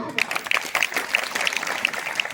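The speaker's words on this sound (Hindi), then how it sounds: "तालियां बजती रहना चाहिए, तालियां बजती रहना चाहिए।" Clapping from a school audience after a Class 6 student's talk on the Indian Constitution, steady and dense throughout, with a voice faintly audible underneath.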